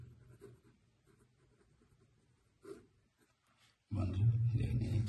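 A pen scratching on paper while working a class 8 maths exam problem: faint, intermittent strokes with pauses, then a louder, denser stretch of scribbling near the end.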